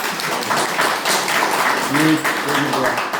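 Applause from attendees at a Chungnam Provincial Council education committee site visit to Seongyeon Elementary School in Seosan, a dense clatter of many hands for a few seconds with speech mixed in.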